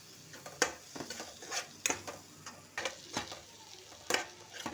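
Chilli powder and turmeric being stirred into cooking tomatoes in a pan, with a spoon scraping and clinking against the pan in a steady rhythm over a soft background sizzle.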